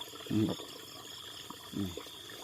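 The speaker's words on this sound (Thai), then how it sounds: "นี่น้ำล้นข้างหน้าน้ำไหลตลอดเวลานะครับ" Water overflows from a rice field and keeps flowing, a steady soft trickle with two short bursts of voice over it.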